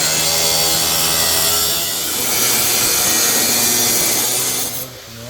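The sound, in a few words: saw cutting with a Bad Dog Tools blade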